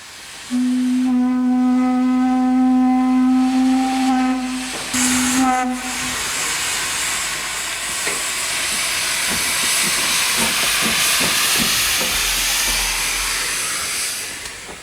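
Steam locomotives in a shunting yard at Didcot: a steady, loud hiss of escaping steam fills most of the scene, preceded by a sustained whistle-like horn tone early on, with rhythmic rail clanks and chuffs underneath.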